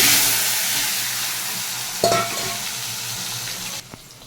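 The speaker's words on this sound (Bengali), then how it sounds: "এই তেলের মধ্যে দিয়ে দিচ্ছি একটা তেজপাতা আর কিছুটা গোটা জিরে, দিয়ে দিচ্ছি কেটে রাখা আলু," Cut potatoes with a bay leaf and whole cumin fry in hot oil with a strong, dense sizzle that slowly fades, broken by a sharp clatter of stirring midway and a quieter knock near the end.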